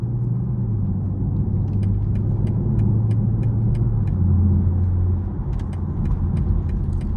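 A 2023 BMW M440i Gran Coupe RWD driving in Sport mode: a steady, loud low engine drone fills the cabin throughout, with a light repeated ticking above it and no talk.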